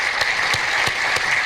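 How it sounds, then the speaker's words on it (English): Steady audience applause at a keynote address for an educational conference, a dense even wash of clapping with a few louder individual claps standing out, sustained throughout without voices. "Everybody, please give a round of applause to Danny."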